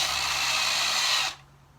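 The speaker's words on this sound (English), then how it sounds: "I've got the polishing wheel on here now" A polishing wheel spins on a Honda CB engine with a steady, loud high-pitched whir for over a second, then cuts off and winds down into quiet.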